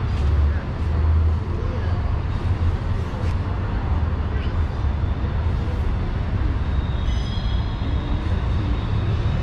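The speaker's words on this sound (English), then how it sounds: "Pretty loud out here with the trains and the vehicles." Steady, loud rumble of passing trains and road traffic close by in Dallas, Texas, a continuous low roar with occasional higher squeals.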